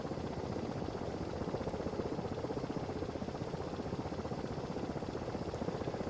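Helicopter main rotors in a flight simulator game, a steady fast chopping thrum held at an even level throughout, moderately quiet with no talk.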